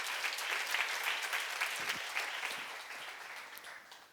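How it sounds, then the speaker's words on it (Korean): A church seminar congregation applauds, a bright, fairly soft wash of clapping that gradually fades over a few seconds. "박수로 맞으세요."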